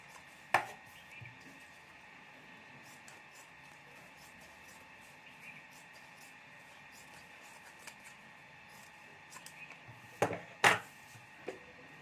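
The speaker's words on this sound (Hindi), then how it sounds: "जो ज़्यादा साइड में रबर शीट और अस्तर है उसको हमें कटिंग कर लेना है" Scissors cutting excess rubber sheet and lining for a pencil pouch: a few sharp, close snips, one early and a quick cluster near the end, over a quiet hiss.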